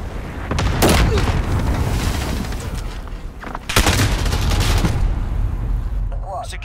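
Gunfire in the video game Call of Duty Modern Warfare, loud automatic bursts with booming reports in two heavy clusters, continuous rattling between them and a brief quieter gap before the second volley.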